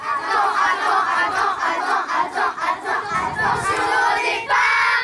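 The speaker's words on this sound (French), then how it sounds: "Allez, tu as des talents, il faut l'applaudir bien fort," A festive crowd at a town celebration in Avallon cheers and shouts loudly for a young singer named Lucie, a dense, sustained roar of voices that dips briefly and then swells again.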